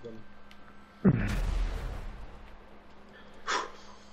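A sudden loud boom from a gas tank exploding in GTA V Online, with a rumbling low-frequency tail that fades over a couple of seconds, followed by a fainter burst of noise.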